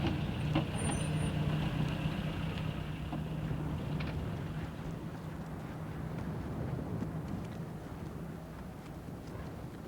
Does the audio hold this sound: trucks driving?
yes